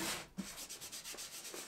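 Sandpaper rubbing over glued wood veneer on a mid-century coffee table, a quiet run of repeated short scratchy strokes at an even rhythm, close by, with no talk.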